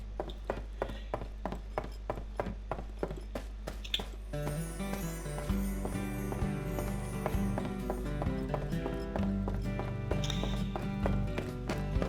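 Horse hooves in the video game Cowboy Life Simulator, a steady rhythmic clip-clop that quickens into a faster gait partway through, layered over game music.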